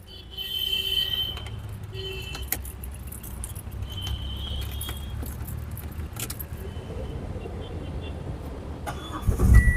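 A 2018 Renault Kwid RXL engine is started with the key, preceded by keys jangling near the ignition and ambient cabin noise, ending in a loud burst as the engine catches near the end.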